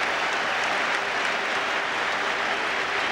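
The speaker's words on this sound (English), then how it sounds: "I'm sorry, Eddie, I just got up to clap my hands there" Rugby crowd in a stadium applauding after a try against the Springboks, a loud, continuous roar of clapping that holds steady from start to finish.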